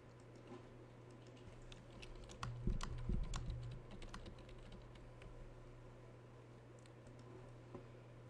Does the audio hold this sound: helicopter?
no